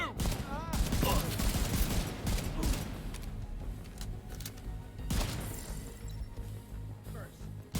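Bursts of rapid gunfire ring out in The Division 2 video game, with sharp overlapping shots and clattering impacts up close, while voices talk over the firefight.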